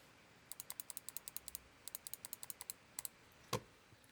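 Keys click on an Alienware 18 Area-51 laptop keyboard in a quiet room, with two quick, even runs of light taps, a few slower presses and one heavier knock near the end, all faint and close.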